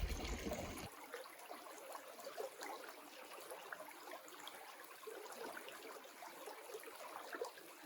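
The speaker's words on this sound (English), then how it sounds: "water flowing out of this magnificent spring here very shortly is going to flow into Finch Creek" Cold spring water flows out and runs toward Finch Creek in a nature sanctuary, a soft, continuous trickling burble heard up close and quiet, with no voices.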